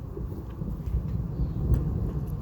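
Thunder during a huge thunderstorm in Cheney, a steady low rumble with rain-like hiss and a faint crackle, continuous throughout with no voices.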